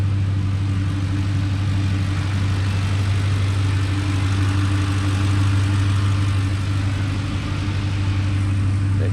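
A 2008 Ford F150 4x4 engine idles steadily and loudly at close range, a constant low hum with no voices, freshly fitted with a new valve cover gasket and still carrying a broken passenger-side manifold stud.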